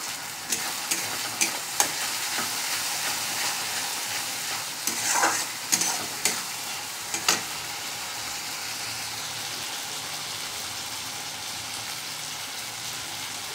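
Masala paste with cumin and ginger sizzles in hot oil in a home kitchen while a Bengali fish curry is being made. A continuous frying hiss runs throughout, broken by sharp clicks and scrapes of stirring, busiest in the middle.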